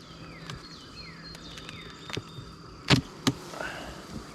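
Honey bees around a hive after a harvest, heard as thin buzzing passes and scattered light knocks and taps, faint and outdoors with no talking.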